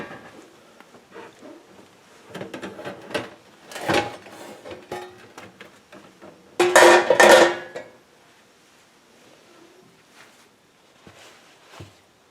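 Bread loaves turned out of a greased metal baking pan give scattered knocks and clatters, with a louder burst of rattling metal in the middle between quieter handling sounds.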